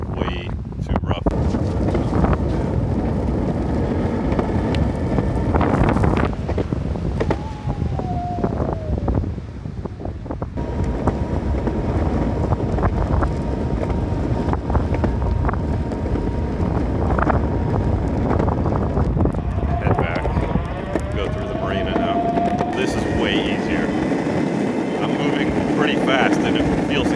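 Heavy wind buffeting and road rumble while riding a dual hub motor electric skateboard past a marina, loud and constant throughout, with a motor whine rising and falling.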